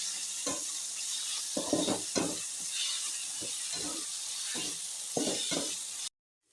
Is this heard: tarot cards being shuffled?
no